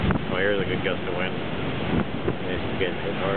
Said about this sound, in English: here's a good gust of wind